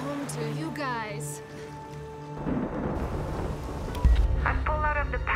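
Thunderstorm rumble and rain build beneath a dramatic score with speech, a heavy low crack of thunder landing near the end.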